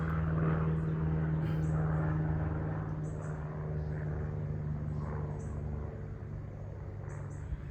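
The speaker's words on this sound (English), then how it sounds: "plane, one more fly around." An airplane drones steadily overhead at a distance, a constant low hum with a faint propeller buzz, and no one speaking.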